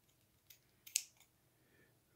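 Small scissors snip through a little leaf made from pen-wrapping material in a couple of quick, crisp clicks close by, amid an otherwise quiet room.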